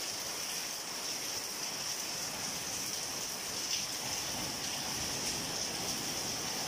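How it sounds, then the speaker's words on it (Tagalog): Heavy rain pours down steadily at night during the first rain of May, a dense, continuous hiss with no breaks, fairly close and even in level. "Lakas ng ulan."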